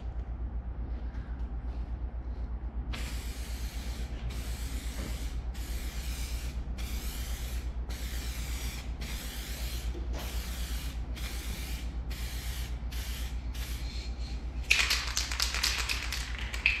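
Spray can painting a motorcycle, with about ten short hissing bursts in a steady on-off rhythm, then a longer, louder spray at the end, close and fairly quiet over a low background hum.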